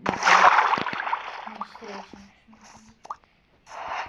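In the Minecraft video game, a character dives underwater with a short splashy burst, followed by softer watery plops and bubbling, while players talk over it.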